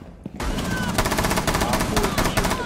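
Rapid gunfire in Rainbow Six Siege: dense bursts of shots from a firefight, loud and continuous, with a voice talking over part of it.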